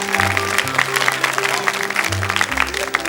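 Studio audience at a French children's TV talent show applauding loudly and steadily for a young contestant, with music and voices mixed in beneath the clapping.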